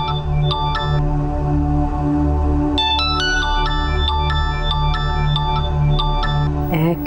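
A mobile phone plays a melodic ringtone in short, repeating chime phrases, clear and fairly loud over a steady low background hum of a TV drama scene.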